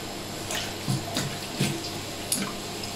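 Scallions being washed in hot water at a home kitchen sink: running water with a few light splashes and sloshes at irregular moments, fairly quiet, no talking.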